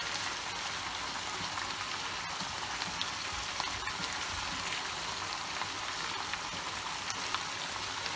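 Minced meat for çökertme kebab sizzling in a pan just after water is added, a dense, steady hiss like rain on a surface with faint crackles throughout.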